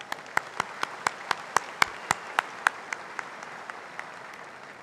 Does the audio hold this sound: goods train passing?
no